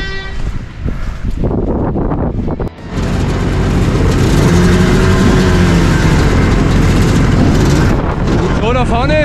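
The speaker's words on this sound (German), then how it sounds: "da vorne ist der erste Beschleunigungstest, deswegen lassen die alle die Motoren langlaufen" Off-road motorcycles idling and revving ahead of an acceleration test at a reliability trial near Ohrdruf, a loud, continuous close engine drone with wind buffeting and a brief dip before the roar resumes.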